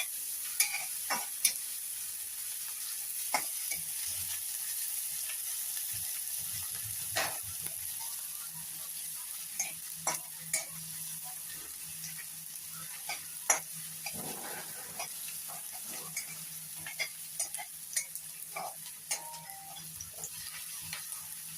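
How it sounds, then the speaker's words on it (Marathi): Onions turning golden are stirred and fried in a pan, a soft steady sizzle running throughout with scattered light scrapes and taps of a spoon against the pan. "सोनेरी रंगावर थोडंसं हलवून घेऊया कांद्याला."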